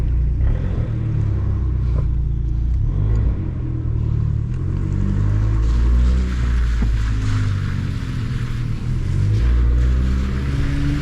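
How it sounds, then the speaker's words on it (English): Factory straight-pipe exhaust on a 2015 Fiat 500 Abarth, a loud, aggressive drone of deep engine rumble rising and falling with revs, continuous and close with no talking. "let's hear that straight pipe exhaust straight from the factory."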